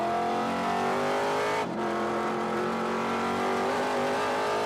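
A TA2 race car roars steadily at the Mid-Ohio circuit, a loud sustained engine drone with a brief dip midway as it holds power, no talk over it.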